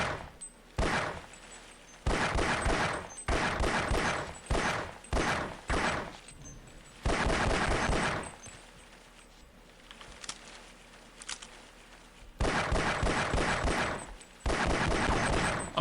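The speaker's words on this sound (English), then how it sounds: "alt fire fires a bit faster if you hold it down" Pistol alternate fire from the video game Half-Life: Opposing Force cracks out in rapid bursts of close, loud shots, separated by short silent gaps and one quieter stretch.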